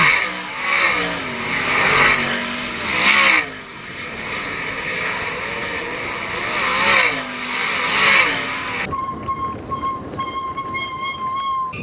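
Race cars roar past in waves at Attica Raceway Park's oval track, engines rising and falling as they circle, then a loud crowd and a horn-like tone take over near the end.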